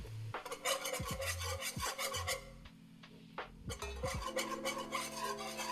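A whisk scrapes and rasps rhythmically against a pot as flour is worked into a potato soup base, brisk close strokes with short pauses, a low hum running underneath.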